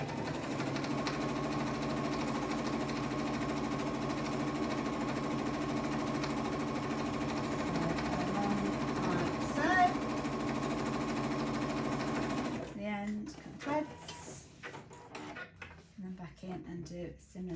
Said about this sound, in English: So bear with me just while I stitch across the bottom here.